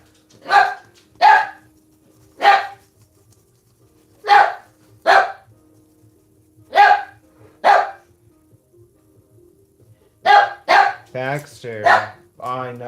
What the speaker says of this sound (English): I apologize for the barking.